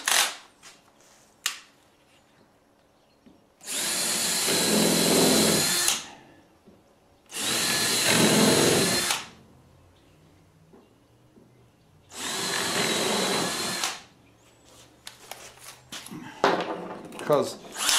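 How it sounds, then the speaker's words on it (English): A power drill drilling holes in wood whirs in three sustained bursts of a few seconds each, close and loud, with quieter clattering and handling noises between them. "what I'm going to do is I'm just going to drill"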